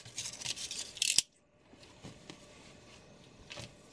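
Scissors cutting a small piece off, a loud short snipping and rasping burst in the first second, followed by quiet faint rubbing and handling sounds.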